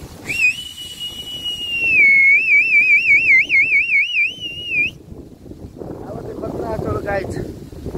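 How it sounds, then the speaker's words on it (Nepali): Wind sweeping across a grassy hilltop meadow in the Nepali hills above the Shwetganga hydro plant. A warbling whistled tone comes first, then gusty rushing wind buffets the microphone for the last few seconds. "गाइस यति राम्रो हावा चलेको कुरै छोड्दैन।"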